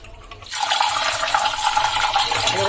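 Water pours through a thin cotton cloth to strain and rinse curdled milk for kheer kadam, starting suddenly and running as a steady, close splashing gush.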